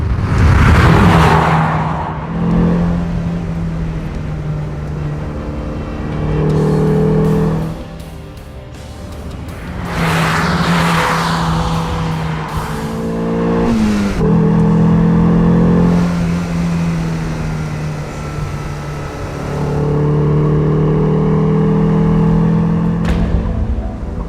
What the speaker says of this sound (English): It's that nasally intake honk that you love to hear in race cars, mixed with smooth, quiet running.